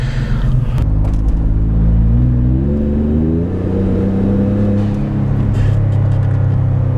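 A 2018 Ford F-150 pickup with the 3.5 EcoBoost engine accelerates at quarter pedal, a loud, close low rumble whose engine tone climbs steadily through the revs, then settles into a steady drone.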